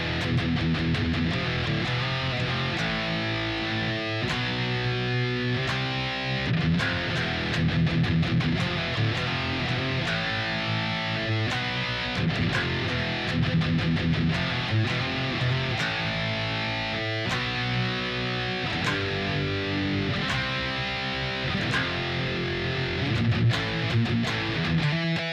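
Distorted electric guitar plays the chorus of a song, a dense, loud, continuous stretch of heavy chords and palm-muted chugging with no talking.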